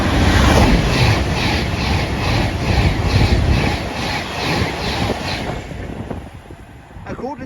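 An Avanti West Coast Manchester Piccadilly to London Euston train blasting through a station on the Trent Valley Line, a loud close roar with rhythmic wheel clatter that fades as it passes, and a brief voice near the end.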